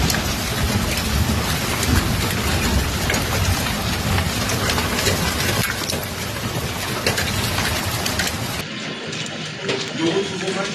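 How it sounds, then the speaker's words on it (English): Heavy rain mixed with hail pounds down steadily during a storm in Ariège, France, a dense, loud hiss and patter that drops off sharply near the end, leaving a lighter shower. "The downpour lasted several long minutes, scattering white pellets across the roads"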